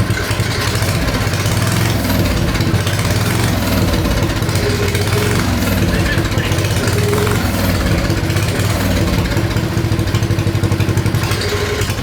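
A Briggs & Stratton big block engine on a longitudinal-engine mini bike revs steadily and loudly up close, a dense mechanical drone that holds throughout with no talking.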